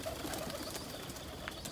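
Pigeons in a freshly cleaned loft, including a blue reversing cock bird, coo softly in low, faint murmurs against a steady background hiss.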